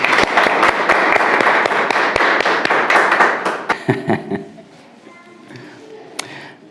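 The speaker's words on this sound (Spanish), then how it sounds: "Demos un aplauso al Señor." A church congregation applauds after a prayer, a few seconds of brisk, fairly rhythmic clapping close by that fades out into quiet room noise with scattered small sounds.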